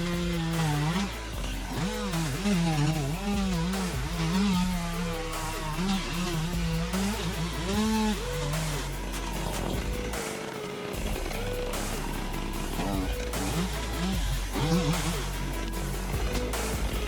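Two-stroke chainsaw cutting through an ancient tree from above, engine rising and falling in pitch as it bogs into the wood and revs again, loud and continuous with a brief dip near the middle.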